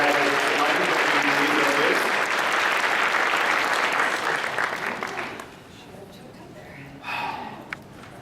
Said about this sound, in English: How about one more round of applause for our Hall of Fame awards?